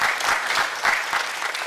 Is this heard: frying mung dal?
no